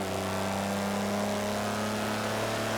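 A 1959 Jaguar in the Forza 7 racing game on the Top Gear track, engine held on the revs at the start line before the clutch drops, giving a steady, loud droning hum with no talking.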